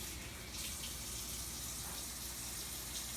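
Tap water runs steadily into a sink while egg is rinsed off hands, a constant hissing gush at close range with no talk.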